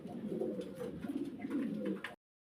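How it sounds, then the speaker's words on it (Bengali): Pigeons in a loft coo in soft, rolling, throaty bursts at close range, continuous for about two seconds before the sound stops. "কত জোড়া কবুতর আজকের ভিডিওতে আছে"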